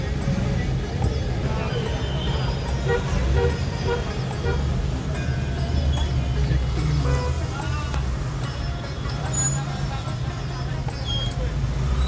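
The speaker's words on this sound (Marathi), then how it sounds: "फुल ट्रॅफिक जाम आहे." Dense street traffic jam near a Ganpati temple in Pune rumbles on with scattered car horns tooting, engines idling and crawling, while people talk in the background.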